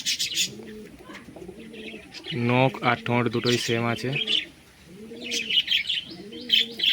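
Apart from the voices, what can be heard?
pigeons cooing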